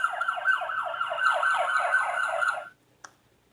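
A loud police car siren wails in a rapid repeating up-and-down pattern for about two and a half seconds, then cuts off, followed by a brief faint click.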